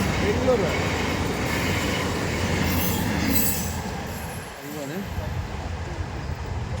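A train rumbles steadily close by at a railway station with metallic wheel squeal and rail noise, the sound dipping briefly before continuing.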